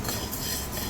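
Spoon scraping and stirring chana dal as it dry-roasts in a pan for homemade idli podi, a brief, steady rustle close by with no talking.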